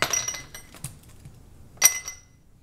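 Ice cubes from a silicone easy-release tray dropped into a glass: a few sharp bright clinks, one at the start, a faint tap near the middle and a louder clink later, in an otherwise quiet room.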